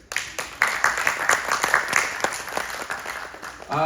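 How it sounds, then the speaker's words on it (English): A crowd at a gathering in Brights Grove, Ontario, claps in a round of applause, a dense burst of many hands that swells quickly, holds steady for a few seconds, then gives way to a new sound at the end. "A round of applause if you've been married longer than 7 years"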